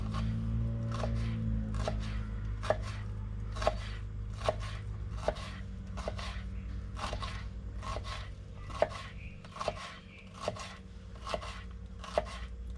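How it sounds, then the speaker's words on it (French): A knife finely chops a shallot on a cutting board in about fourteen crisp, evenly spaced strokes, close and clear over a low background hum. "je viens ciseler l'échalote"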